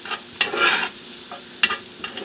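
Spoon stirring homemade tomato soup with cilantro in a pot, a few scraping, swishing strokes with short bursts and quieter pauses between, close and alone.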